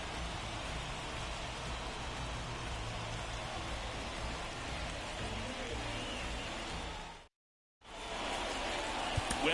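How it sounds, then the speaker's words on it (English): Steady rain hisses over a baseball game between the Kansas City Royals and Atlanta Braves in MLB The Show 24, a dense constant wash of falling rain with a brief dropout near the end and no talk. "The rain is here, and it doesn't look like it's going away anytime soon."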